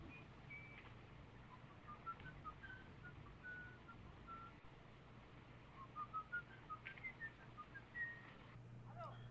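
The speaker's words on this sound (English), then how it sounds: "the tune he whistles when on the prowl" A man whistles a melodic tune, as in Fritz Lang's film M. The phrases come and go across the clip over a steady low hum, with no talking.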